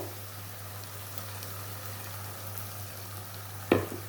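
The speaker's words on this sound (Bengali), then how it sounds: "এই যে মশলাটাকে ভালো করে কষিয়ে নেবো" Spice masala stir-frying in a pan for a jackfruit and prawn curry, a faint, even crackling sizzle over a low hum, with one sharp utensil knock near the end.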